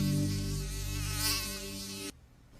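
A dangerous mosquito whines close by in a steady, loud, high-pitched drone with dense harmonics, swelling briefly before cutting off abruptly near the end, leaving faint background noise.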